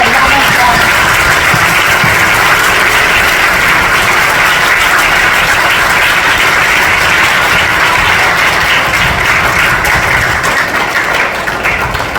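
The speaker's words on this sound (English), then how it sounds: "let's give a big round of applause to Team Nirmala for their enormous job" An audience at a farewell program gives loud, sustained applause for the organizing team, with dense clapping filling the room at an even level for about twelve seconds.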